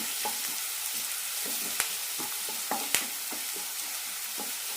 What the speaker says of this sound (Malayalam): ഇനി ഇതിലേക്ക് സവാള ഇട്ട് കൊടുക്കാം കൂടെ തന്നെ കുറച്ച് കറിവേപ്പിലയും ഒരു നുള്ളി ഉപ്പ് കൂടി ഇട്ട് കൊടുക്കാം നന്നായി വഴറ്റി കൊടുക്കാം